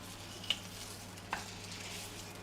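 Meat sears in fat in a pan, giving a soft, steady sizzling hiss. Two brief clicks of utensil or pan break through it.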